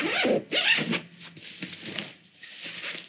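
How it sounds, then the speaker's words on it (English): A YKK zipper on a Lowepro camera backpack is pulled open in several quick, close, loud strokes, with brief pauses between them. "the zippers are YKK, so they are very nice and very smooth"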